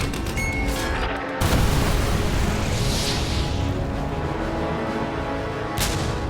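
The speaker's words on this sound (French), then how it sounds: "l'artillerie alliée commence son barrage sur Monchy-le-Preux" Allied artillery barrage on a World War I battlefield at Monchy-le-Preux, a continuous rumble of heavy booms and distant gunfire, with a sharp loud onset after a quieter opening and pounding that persists throughout.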